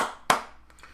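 Hand claps mark a pair of eighth notes: one crisp, close clap stands out, with a fainter tap following later in the beat.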